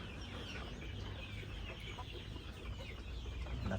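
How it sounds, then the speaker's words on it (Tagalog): Rhode Island Red chickens clucking softly at a distance over a steady, noisy farmyard background, with no talking. "pagbuhi sa ato ang mga manok, mga Rhode Island Red"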